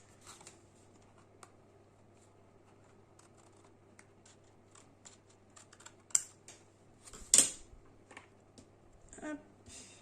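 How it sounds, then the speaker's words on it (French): Scissors snip paper while trimming a handmade budget planner page, a series of short, crisp cuts and rustles close by, with a couple of louder paper crinkles toward the end. "on prend les jolis ciseaux. On enlève ce qui dépasse."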